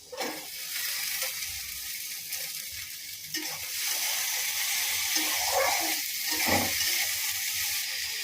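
Chopped onion, chilli, potato and beans sizzle steadily in a pan, a continuous hiss with occasional stirring scrapes, close and moderately loud with no talk.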